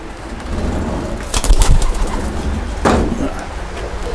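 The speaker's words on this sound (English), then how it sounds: "Very nice pigeon." A racing pigeon in a loft gives soft low cooing calls, with a burst of fluttering or rustling and a couple of sharper sounds, close and fairly loud over a steady background hum.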